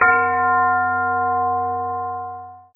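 A gong is struck once, sounding close and loud with a clear tonal ring that holds steady and slowly fades over a couple of seconds before a brief knock at the end.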